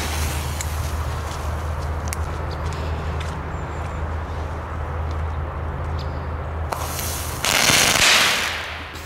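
Fireworks are set off outdoors with a constant low rumble behind them. Scattered pops and crackles run through the clip, and a louder burst of crackling comes near the end.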